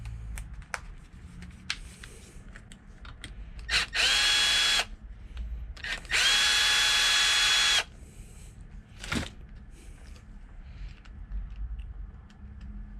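A power tool whirs in two loud bursts, one short and one longer, while a carburetor is removed from an Echo GT-2000 string trimmer. Quieter clicks and handling noises fill the gaps.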